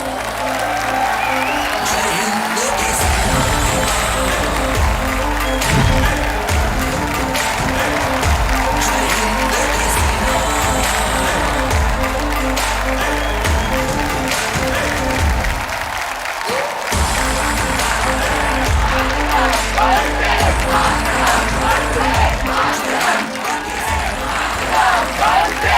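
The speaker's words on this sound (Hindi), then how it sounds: "तालियों के साथ उनका स्वागत किया जाए" A studio audience on the Kaun Banega Crorepati game show applauds loudly and continuously to welcome guests, a thick wall of clapping with some cheering and music running underneath throughout.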